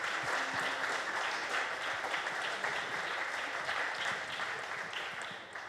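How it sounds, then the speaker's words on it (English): Audience at a business festival opening speech breaks into sustained applause, a dense wash of many hands clapping together that holds steady and then starts to taper off toward the end. "we should just all give ourselves a round of applause"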